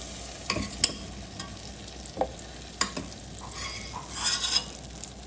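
Ghee sizzles in a pan as a large batch of liver is fried, a steady close crackle broken by a few sharp spatters and scrapes of stirring, with no talking.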